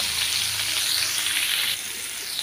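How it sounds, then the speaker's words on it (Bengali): Jackfruit pieces frying in hot oil, a dense, loud, even sizzle heard close up that eases slightly near the end, with no speech. "এখানে আমি মোটামুটি 5 মিনিট মতন এঁচোড়টা ভেজে নেব"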